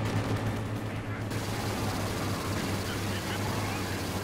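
Sustained base machine gun fire in Company of Heroes 2 rattles continuously throughout, dense and steady, with a commentator talking over it.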